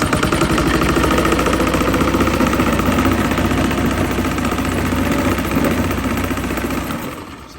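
A gas golf cart engine runs steadily and loudly with the throttle pressed, a rough, continuous drone that holds for about seven seconds before easing off at the end.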